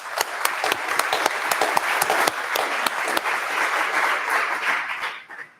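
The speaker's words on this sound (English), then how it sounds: "Please, a round of applause for our amazing panel." A convention audience applauds a panel at CORVACON Spring 2021, giving dense, steady clapping from many hands that fills the room, then fades out at the end.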